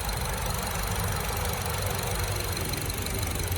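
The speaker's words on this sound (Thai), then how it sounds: "เครื่องยนต์ของเขาเนี่ยเป็นเสียงเอกลักษณ์ของเขาเลยนะ" A Honda Civic FC 1.8-litre VTEC engine idles steadily and loudly up close, a constant throaty rumble with a fine rapid ticking texture and no speech.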